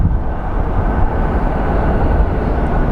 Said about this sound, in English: I hear a plane above me.